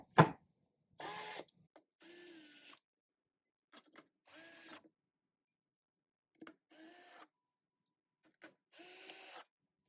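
A power driver snugs down the bolts on a foil drive mount in a series of short, whirring bursts separated by silence, close and fairly quiet.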